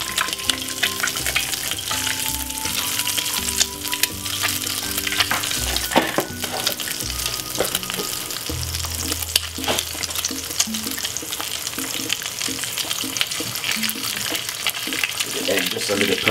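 An egg frying in a pan for a bacon, cheese and fried egg breakfast sandwich: a steady, close crackling sizzle running throughout, with faint kitchen clatter and music underneath.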